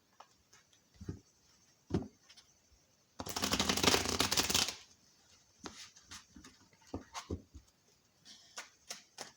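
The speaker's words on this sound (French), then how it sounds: "Alors, je vais les mélanger. Je vais bien les mélanger." Tarot cards being shuffled by hand: a few soft taps and riffles, then a dense two-second burst of fast card shuffling, followed by more scattered taps, close and fairly quiet, no talking.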